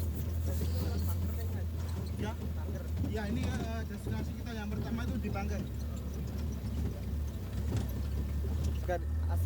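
An off-road jeep drives around Kaliurang, its engine a steady low drone beneath a person talking throughout, with scattered rattles and bumps.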